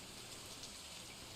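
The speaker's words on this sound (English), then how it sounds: "I think I heard rain. There is some rain." Steady, even rain hisses in the Stardew Valley video game, a constant soft patter with no thunder or talking over it.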